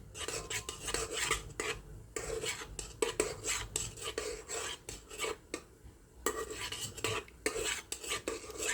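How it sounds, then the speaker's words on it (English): A utensil stirs melting shea butter in a pot, scraping and clinking against the sides in steady, rhythmic strokes with short breaks, close and fairly quiet, with no voices. "And stirring it helps the shea butter melt."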